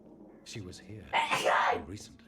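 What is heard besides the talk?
sneeze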